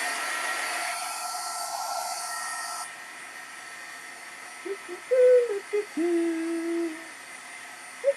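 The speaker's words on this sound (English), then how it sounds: "let's go ahead and dry it because we're going to run it through the die cutter" A hair dryer blows steadily on a freshly painted negative-technique watercolor card panel, a broad airy whir that runs loud for about three seconds, then drops to a softer drone with a few short tonal blips near the end.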